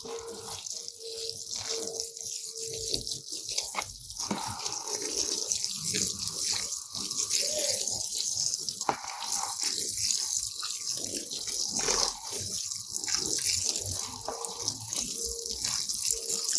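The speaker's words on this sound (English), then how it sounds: "I'm going to water it in now." Water pours steadily onto the ground while a newly planted tropical fruit tree is watered in. The splashing is soft and continuous, with faint trickles and drips and no talk.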